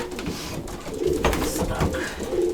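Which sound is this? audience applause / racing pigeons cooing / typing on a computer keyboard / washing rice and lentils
racing pigeons cooing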